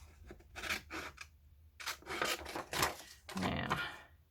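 Scissors snip around a picture cut from old book pages: several quiet, close crisp cuts and paper rustles arriving in short bursts.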